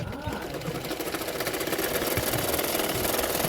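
Sewing machine stitching the side seams of a simple katori blouse, a fast, steady mechanical rattle running close and continuous, growing slightly louder.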